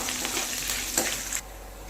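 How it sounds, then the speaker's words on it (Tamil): Crushed garlic cloves, dried red chillies and curry leaves sautéing in hot oil, a close steady crackling sizzle with a light stir, ending abruptly into a faint low hum. "பூண்டு நல்லா கலர் சேஞ்ச் ஆகிற வரைக்கும் வதக்கிக்கலாங்க."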